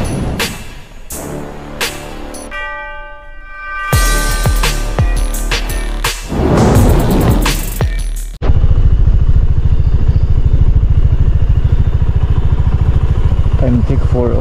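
A motorcycle engine on an uphill climb to Banaue near Cabanatuan while stuck behind trucks, with varying clattery noise, loud wind, and a steady close engine drone in the second half.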